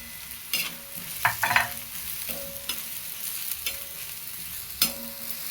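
Chopped onion sautéed with turmeric and homemade black onion-garlic masala in a hot pan, with a steady close sizzle and repeated scrapes and clinks of a stirring spoon.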